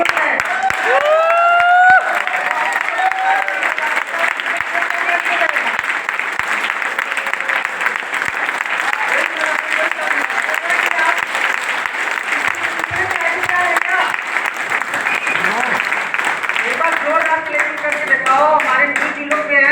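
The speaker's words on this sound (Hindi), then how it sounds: "अपने लिए ताली यही होता है।" A room full of award winners at a Shimla gathering claps loudly for themselves, with steady dense applause lasting throughout and some voices and cheers mixed in.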